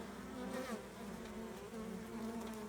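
Honey bees buzz steadily at a hive entrance in late summer, foragers returning with pollen on their legs; a dense, continuous drone with no voices.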